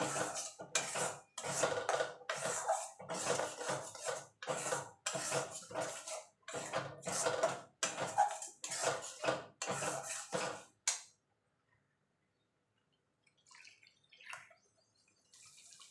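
Mustard paste and spices being mixed in a pan for a boal fish dish, heard as a rapid run of clattering spatula strokes against metal for about eleven seconds, then near silence with a few faint clinks.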